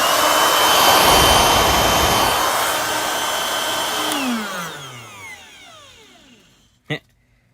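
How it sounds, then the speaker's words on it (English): A blower roars loudly under test, then spins down, its whine falling away over a few seconds until a single short knock sounds near the end. "Blower test."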